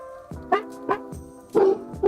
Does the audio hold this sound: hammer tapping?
no